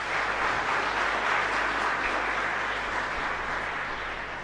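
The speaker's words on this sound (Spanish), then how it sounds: "Merecen un fuerte aplauso" Sustained applause from a congregation inside a chapel during a live-broadcast Mass, a soft, even wash of clapping that holds steady throughout at moderate distance.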